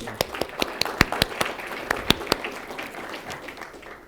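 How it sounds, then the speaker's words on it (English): Applause for a speaker at a renewable energy summit, sparse distinct claps from a modest audience, fairly faint and thinning out toward the end. "Let's give a round of applause for Tom."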